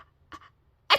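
A voice imitating a gigantic, snotty sneeze: a short sniffly intake, then one loud, close explosive burst.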